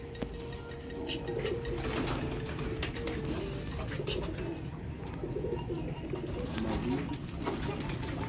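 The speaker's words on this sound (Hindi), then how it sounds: "कांटियां वाले टैडी कबूतर।" Teddy breeder pigeons coo repeatedly at close range over a low background murmur, their soft throaty calls rising and falling throughout.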